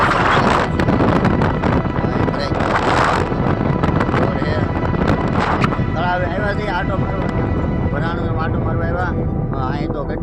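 Wind rushes and buffets against the microphone in a steady roar beside a lake, with voices talking faintly through the second half.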